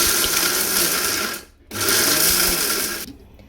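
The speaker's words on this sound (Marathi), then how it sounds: "मखाना घेतलेला आहे त्यालाही आता मिक्सरमधून मी बारीक करून घेणार आहे." A kitchen mixer grinder powdering makhana (fox nuts), a loud whirring motor run in two bursts with a short pause between, then the motor winding down at the end.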